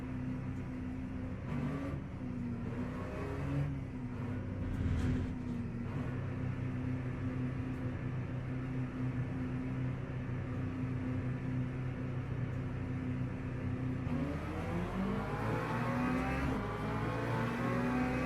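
Race cars at Le Mans in a racing video game, with a McLaren and a Porsche, accelerating with a steady, loud engine drone that rises in pitch toward the end as one car revs harder.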